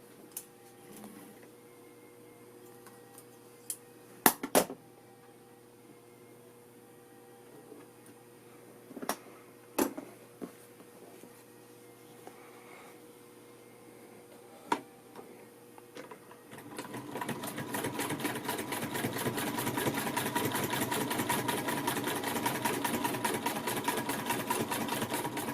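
A New National sewing machine made by New Home around 1910 starts stitching after a stretch of quiet handling clicks, running at a fast, even mechanical rhythm, close and steady until the end.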